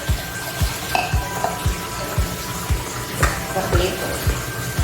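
A spoon scrapes rhythmically around a pan while ingredients for Acehnese ikan asam sunti, a sour fish dish, are stirred and mixed, with a faint sizzle beneath the steady strokes.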